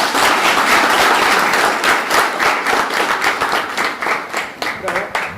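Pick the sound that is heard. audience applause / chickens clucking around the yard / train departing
audience applause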